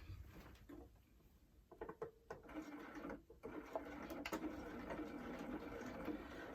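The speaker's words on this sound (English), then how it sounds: "So I'm going to stitch this now" Sewing machine stitching an exposed zip with a placket against a raw edge, quiet fabric handling and a few taps first, then a steady close machine whir building and holding to the end.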